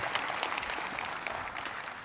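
A dense crackle of clapping hands fills the whole stretch, steady and fairly quiet, like an audience applauding at a distance.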